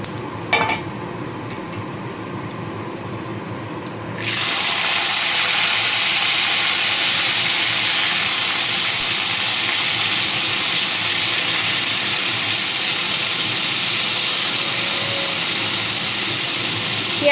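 Chopped onions go into hot oil with dried red chilli and whole cumin for winter cauliflower and pea masoor dal khichuri, and a loud steady frying hiss fills the space after a brief quieter start.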